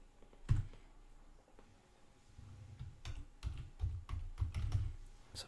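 Password being typed on a computer keyboard: a quiet scatter of close key clicks, sparse at first and then quicker, with a soft hum behind.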